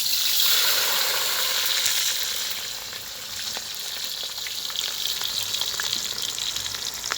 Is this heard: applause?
no